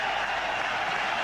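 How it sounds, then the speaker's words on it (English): Cricket crowd at a one-day international gives a sustained, dense ovation of applause and cheering for Sachin Tendulkar reaching his century, a steady broadband roar from a large stadium throughout. "Tremendous ovation here from the crowd"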